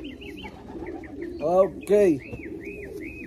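Racing pigeons cooing close by, two loud throaty coos with faint chirping birds in the background, and a person speaks briefly.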